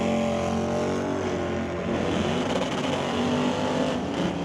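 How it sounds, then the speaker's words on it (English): An 88 Fox Body Mustang and a Malibu wagon in an NHRA drag race, their engines roaring loud and sustained from down the strip with no one talking. "Danny Long, his 88 Fox Body Mustang, facing off against Craig Johnson in the Malibu wagon."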